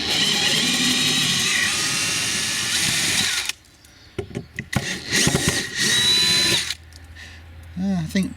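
A cordless power screwdriver backs screws out of an outside tap plate, whirring loudly for several seconds, then short bursts and clicks of the bit working the screw heads, close up.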